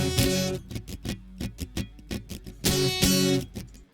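Strummed acoustic guitar track in a song mix, with EQ and light compression, plays a rhythmic pattern of full chords alternating with short muted plucks, clear and up front.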